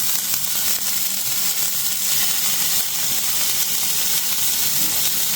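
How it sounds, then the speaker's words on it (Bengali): Chopped onion and tomato fry in a pan for chow mein with a loud, close, unbroken sizzle and hiss that holds steady throughout. "পেঁয়াজটাও এদিকে দেখো হালকা করে ভেজে নিলাম"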